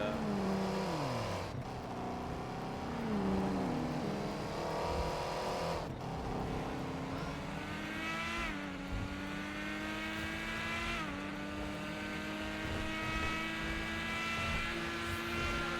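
Modded car engine sounds in GTA 5: high-revving engines with rising pitch sweeps and abrupt gear-shift drops, several acceleration runs in succession, loud and continuous without speech.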